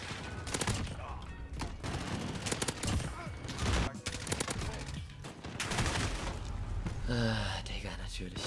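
A gun turret fires in the video game Modern Warfare, with loud rapid bursts and repeated shots spread across the stretch amid other game sounds and occasional voices.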